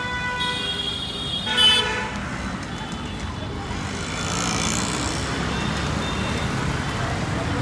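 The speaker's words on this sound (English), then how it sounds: "There are just so many cars on the road all the time" Busy road traffic rumbles steadily, with a horn honking early on and engine noise rising midway.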